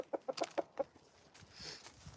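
A backyard hen clucks in a quick run of five sharp, close calls, then falls quiet into faint rustling and softer sounds.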